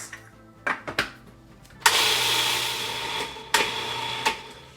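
A food processor blitzes arugula pesto in a home kitchen: a few short pulses, then a steady, loud whirring run with another brief surge near the end.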